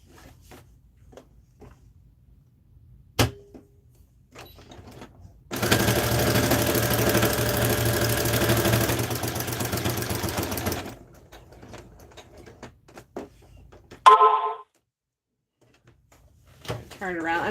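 Sewing machine stitching denim on a pinafore made from upcycled men's jeans runs in one steady burst of about five seconds, close and loud, framed by quiet handling clicks and rustles.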